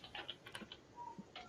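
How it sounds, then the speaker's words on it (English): Quick, faint clicks of a computer keyboard being typed on, a short irregular burst of light taps picked up by a microphone during an online call. "can you mute while you're typing just real quick?"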